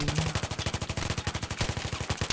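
Sustained automatic gunfire in Battlefield 3 multiplayer, a loud, rapid, evenly spaced stream of shots roughly a dozen per second, running unbroken for the whole stretch with no talk over it.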